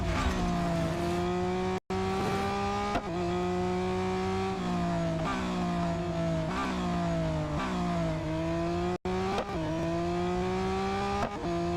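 Race cars in the Real Racing 3 video game on a proper race course, a loud continuous engine whine that rises and drops with gear shifts and revving, with two brief dropouts and no speech.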